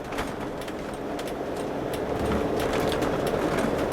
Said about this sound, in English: the noise which we're getting here is actually coming from the road.